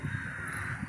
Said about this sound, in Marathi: कावळे पाणी पित होते, झाडांना पाणी सोडले।